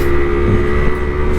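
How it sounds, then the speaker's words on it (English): The horn of a Yamaha RX 100 motorcycle blares as one loud, steady, buzzy tone held for over a second, close by, with no voices. "And the horn on this bike"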